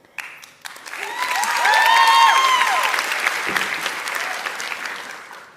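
Audience applause at a TEDx talk in Sydney, a large crowd clapping steadily, swelling to a loud peak midway and then holding at a dense, sustained level with no voices over it.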